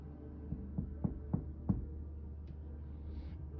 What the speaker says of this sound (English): And then I heard a knock on the door.